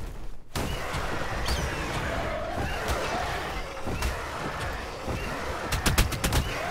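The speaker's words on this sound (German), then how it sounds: "Er schießt. Erstmal mit solchen Stacheln." Velonasaur firing spikes in the game ARK Extinction, a run of rapid sharp cracks like gunfire over a constant roar of game noise, bursts clustering toward the end, loud and close.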